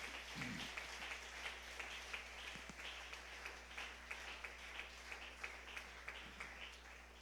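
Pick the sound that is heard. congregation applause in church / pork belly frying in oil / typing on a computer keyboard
congregation applause in church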